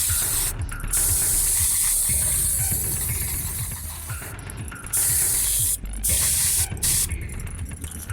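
Black surface primer hissing from a spray can in several steady close bursts, with short pauses between them and brief talk in the background.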